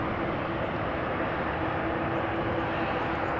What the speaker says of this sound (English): We're watching Transavia lining up. Flight 5819, Boeing 737-800,